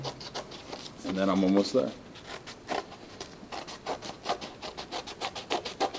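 Child-safe kid scissors snip and rasp through paper along an edge in a steady series of soft, close crunching cuts, while someone talks over them.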